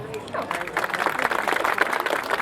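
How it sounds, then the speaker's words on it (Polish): At a harvest festival in Dąbrowa, a crowd claps for the regional governor's advisor, with dense, continuous applause running under a voice talking over a loudspeaker. "Wielkie brawa."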